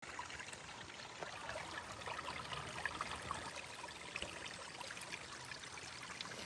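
Spring-fed, clean stream water trickling and babbling steadily over a shallow bed, a continuous close gentle flow with small splashy details and no voices.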